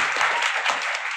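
Audience applause for successful students at a coaching academy result celebration in Patna, a dense steady wash of many hands clapping throughout with no pauses.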